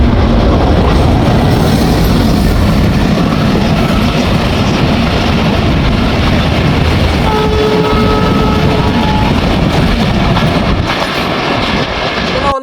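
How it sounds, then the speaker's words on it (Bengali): The Tungipara Express roars through Arkandi railway station at top speed, a loud, close, continuous rumble of wheels and wagons with a brief horn tone partway through. "Tungipara express train."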